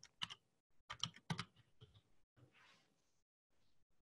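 Someone types a short word on a computer keyboard, with quick, close, distinct clicking keystrokes in small bursts and then a few quieter taps.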